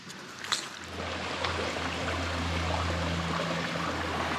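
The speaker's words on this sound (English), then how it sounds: "It sounds like there's a waterfall in there." Steady rushing of stream water, likely with a waterfall upstream, heard on a muddy bush walk in Sydney's Northern Beaches. A continuous wash plays over a low rumble, with no talk.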